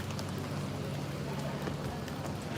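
Light rain falls steadily in an outdoor setting in Helen, Georgia, at Christmastime, a soft continuous patter with a low rumble beneath it and no clear talk.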